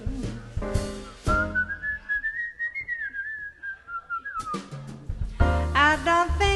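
A person whistles a short melodic tune, a clear sustained sliding line between bursts of backing music and singing, heard close and alone in the middle.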